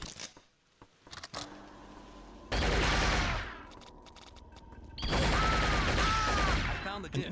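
Bursts of machine gun and assault rifle fire in the video game Shogo, two loud sustained volleys separated by quieter clicks and mechanical handling sounds, up close with no talking.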